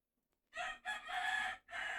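A rooster crows once nearby, a loud multi-part call after a brief silence, with no other sounds around it.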